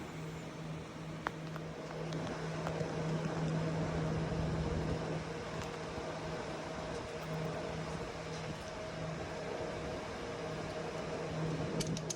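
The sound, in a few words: drying fans running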